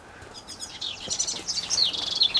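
A small bird chirps in quick, high twittering bursts, close by and growing busier toward the end.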